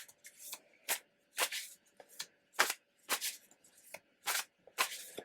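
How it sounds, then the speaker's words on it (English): A tarot deck being shuffled by hand, bursts of crisp riffling card noise repeating in a steady rhythm about every half second, close and moderately quiet with no talk. "we're going to go ahead and just shuffle these up and get that going"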